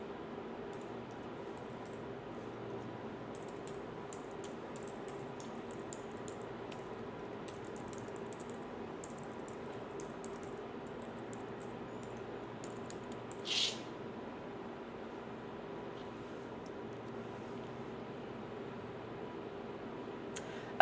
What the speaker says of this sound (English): Now just type in your personal info.